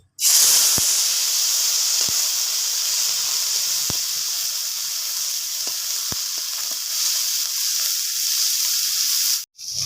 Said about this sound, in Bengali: নিম কড়িগুলো আমি ভেজে নেব তেলে